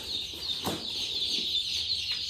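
Newborn chicks in a shipping box peep continuously in a dense, high-pitched chorus, close and steady, with a couple of brief rustles or bumps.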